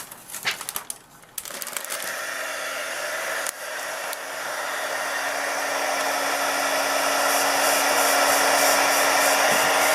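A heat gun blows hot air onto candle wax with a loud, steady whooshing roar that builds slowly and holds close. It starts after a few brief clicks and handling noises.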